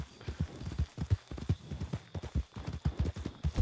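Horse hooves clip-clop in a quick, steady rhythm of close, crisp strikes on a road in a Western game setting, with no talk over them.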